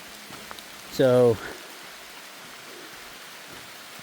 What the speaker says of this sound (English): it's now heavily raining